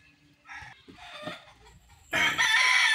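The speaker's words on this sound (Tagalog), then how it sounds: "maraming manok dito eh" Chickens cluck softly in a yard during Hyundai H-100 steering pump repair, then a rooster crows loudly and close, its long strained call ending the moment; no one speaks.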